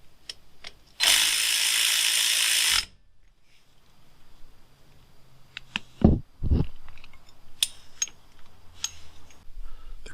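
Ratchet wrench tightening bolts on the front brakes of a 2004 Honda Odyssey during a rotor and pad replacement: one steady, loud ratcheting burst of about two seconds, then a few scattered clicks and clunks close by.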